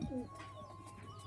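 Pigeons at a rooftop loft, just given water, give a soft coo near the start, with faint chirps and low background hum through the rest of the short moment.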